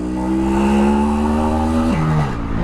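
A Jawa motorcycle accelerating and pulling away, its engine rising steadily in pitch and loud up close, then dropping sharply at a gear change before climbing again.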